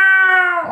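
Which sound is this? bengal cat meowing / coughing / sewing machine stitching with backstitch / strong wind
bengal cat meowing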